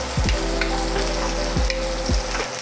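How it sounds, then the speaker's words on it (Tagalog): Ginger sautéing in a pan for chicken tinola, a loud continuous sizzle broken by a few sharp scrapes of a spatula stirring against the pan. "Subda itong ginger una"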